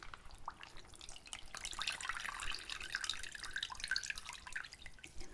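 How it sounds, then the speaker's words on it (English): Water drips and trickles from a wrung-out cloth rag soaked in hot water, a close, soft run of patters and splashes with no talking. "I'm just going to wring out this rag over here."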